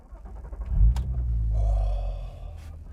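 A Mk1 Audi TT V6 cranks briefly and fires up cold with a key turn, giving a deep rumbling catch followed by a steady low idle that settles. The sound is close and loud, with no talk.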